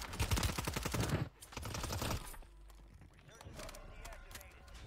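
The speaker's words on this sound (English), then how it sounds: "5 people shooting me." Rapid bursts of automatic gunfire crackle in Call of Duty Warzone on Rebirth Island, a dense loud volley up front, then scattered sharper shots and thuds at lower level.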